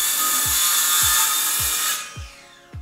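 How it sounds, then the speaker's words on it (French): Circular saw cutting through wood on a 0-degree crosscut: a loud, steady high whine with rhythmic low thumps for about two seconds, then the blade spins down and falls quiet. "Je vais positionner la scie sur mon trait de coupe."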